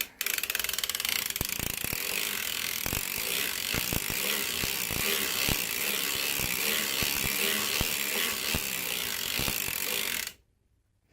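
A hand-cranked circular sock knitting machine works rounds of a peacock stitch for a newborn baby bonnet, giving a loud, continuous ratcheting clatter with regular mechanical clicks that stops abruptly near the end.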